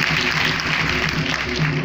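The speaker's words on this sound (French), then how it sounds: "Vous pouvez vous applaudir, s'il vous plaît." A crowd at a ministerial launch event in Côte d'Ivoire applauds in a brief, dense, even burst of clapping with no clear breaks.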